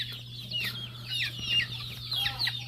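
Backyard gamefowl chicks and hens, including grays of an LDT line, peep and cluck in quick scattered calls at close range over a steady low electrical hum, with no talking.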